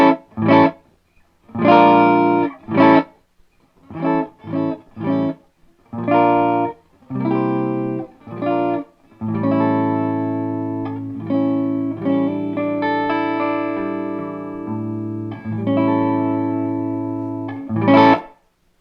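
Electric guitar played through an 8 Watt Little Walter amp head with no reverb, a series of short chopped chords followed by a longer ringing phrase with sustained notes, dry and upfront.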